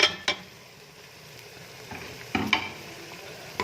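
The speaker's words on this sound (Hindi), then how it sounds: "चंद सेकंड के लिए हल्की आंच पे ऐसे फ्राई करेंगे ताकि मसाले का जो टेस्ट है वो अच्छी तरह से घी में आ जाए" Spices stir-fried in hot ghee in a pot for chana dal, a soft steady sizzle broken by a few sharp clinks and scrapes of a spoon against the metal.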